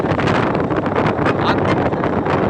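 Steady wind gusting across an open microphone outdoors on a sunny day, a loud continuous broadband rush with slight swells and no pauses.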